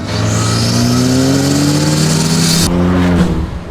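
An Ariel Atom 4R engine roars hard under turbo-boosted acceleration in fourth gear, pitch climbing steadily, loud and close, then cutting off with a shift near the end.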